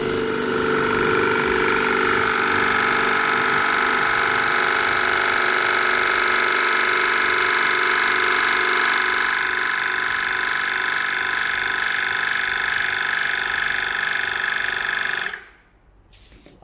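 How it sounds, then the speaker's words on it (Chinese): A refrigerant recovery machine runs with a loud, steady motor-and-compressor drone for about fifteen seconds, then shuts itself off abruptly into near quiet, with no talking. "我们启动这个回收机"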